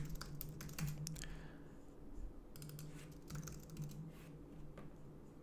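Someone types on a computer keyboard in quick, irregular bursts of close, soft key clicks, with brief pauses between runs and faint background hum.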